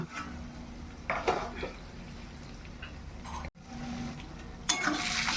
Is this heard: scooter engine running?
no